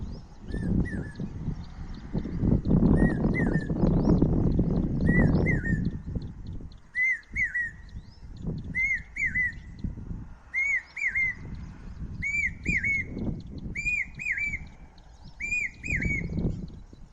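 A bird on farmland gives a series of short, bright whistled calls, repeated at a steady rhythm about once a second. The calls are clear and fairly close, and a low rumble of background noise sits under the first half.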